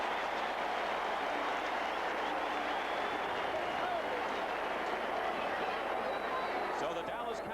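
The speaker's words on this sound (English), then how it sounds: "And listen to the crowd" A large stadium crowd roars and cheers steadily at a 1982 Dallas Cowboys at Cardinals American football game, a dense, continuous wash of noise with a commentator talking over it.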